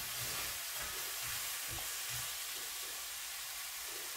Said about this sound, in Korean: 그냥 이 양념으로 볶는 거예요.